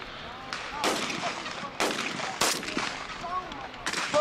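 Sharp gunshots ring out at a Southern Regional 4-H youth shooting sports event, about five separate cracks at irregular intervals with echoing tails, heard outdoors at a moderate distance over faint background noise.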